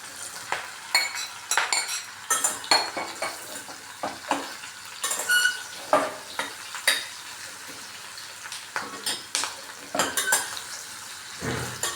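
Mushrooms tossed into a hot pan for a quick mushroom biryani, with steady sizzling and frying under repeated clinks and scrapes of a utensil stirring against the metal, close and moderately loud throughout, no voices.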